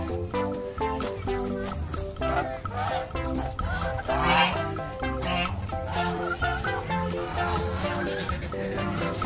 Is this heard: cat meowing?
no